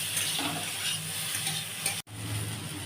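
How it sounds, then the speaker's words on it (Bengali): Brinjal (eggplant) pieces fry in an oil-filled pan for keema, giving a steady, close sizzle with soft stirring scrapes that cut out for a moment near the end. No one speaks. "আমি বেগুনটা ভাজছি"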